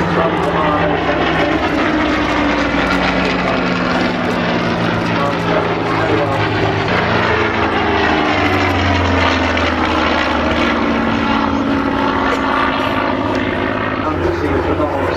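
An Avro propeller-driven combat aircraft flies past at an airshow, its engine drone loud and continuous for the whole stretch, the pitch sliding slightly as it passes, with a crowd and commentary murmuring underneath.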